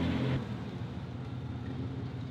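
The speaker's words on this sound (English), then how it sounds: "Loud cars." A steady low rumble of loud cars passing outside carries on continuously, with a heavier surge at the very start that settles into a constant drone.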